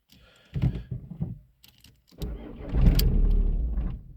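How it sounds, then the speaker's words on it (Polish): A Seat Leon 1.9 TDI diesel with an immobiliser fault is cranked after some clicks, fires briefly into a rough, loud idle for about a second or two, then dies out; close and indoors. "Typowy objaw immobilizera. Sekunda pracy i gaśnie."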